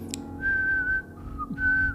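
Human whistling serves as a horror-story sound effect: a few clear, sustained whistled notes, the first rising and holding, a short dip, then another held tone, close and alone.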